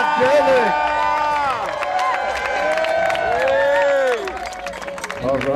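Crowd at the San Francisco Carnival cheering and applauding performers in a loud, sustained wash of clapping and shouts, with whistles and a few raised voices mixed in.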